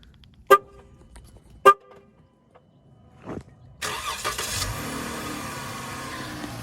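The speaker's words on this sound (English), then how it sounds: "all you do is click this button twice, and then you'll start the car." Two short chirps from a 2013 Chrysler 300 AWD remote, a brief click, then the engine turns over and settles into a steady idle rumble.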